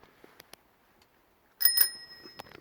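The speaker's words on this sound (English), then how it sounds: "It's got an original Ratfink bell" An original Ratfink bicycle bell on a Mark 1 Ratfink cruiser rings twice in quick succession, a bright metallic ding with a lingering ring, heard close and alone after near silence.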